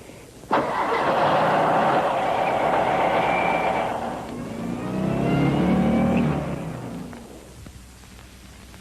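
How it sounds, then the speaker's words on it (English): A 1974 Volkswagen Beetle buried in snow cranks and fires up, its air-cooled engine revving loudly and close, then dropping and settling toward idle before fading. "when the crew supervisor turned the ignition key,"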